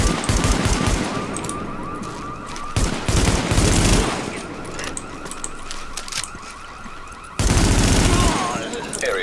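Rapid automatic gunfire in the shooter Tom Clancy's The Division comes in loud, close bursts with a high rate of fire. Long stretches of shooting alternate with brief pauses, with some background game sounds in between.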